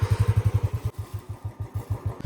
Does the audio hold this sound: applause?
no